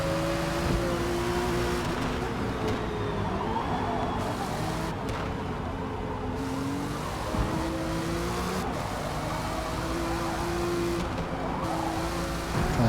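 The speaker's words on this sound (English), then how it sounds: "Trying to stop the car sliding." Race car in the Forza Motorsport racing game sliding through a pack of cars, its engine droning steadily with harmonic whine and brief tire scrubs, continuous and close throughout.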